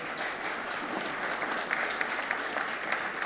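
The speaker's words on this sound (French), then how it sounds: "Alors vous pouvez m'applaudir" Audience applause at a breakfast gathering on French-made industry, a sustained even patter of many hands clapping, fairly soft and steady for a few seconds.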